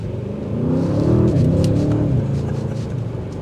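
An Audi S8 with rear-axle steering accelerates through a U-turn on a test drive, driven with Tiptronic paddle shifters: a close, steady engine rumble swells in the middle and then holds, with no talk over it.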